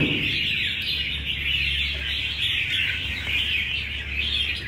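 Continuous high, bright bird song, a steady chirping trill over a low background hum, fairly close and unbroken.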